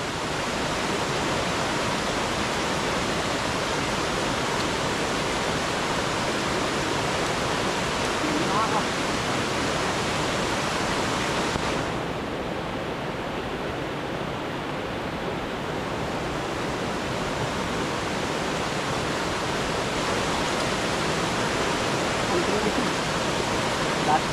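A swelling river's rushing water roars in a constant, dense wash of noise, loud and unbroken throughout.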